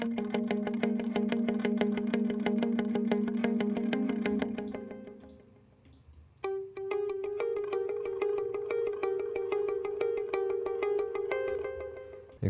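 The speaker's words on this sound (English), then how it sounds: "we've got a multitude of different guitar parts" Layered electric guitar parts in a synth-pop remix, sustained effected tones with chorus and distortion, a droning chord that drops out briefly before a new higher line enters, loud with no talk.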